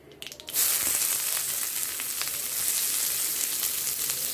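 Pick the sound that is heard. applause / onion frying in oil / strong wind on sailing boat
onion frying in oil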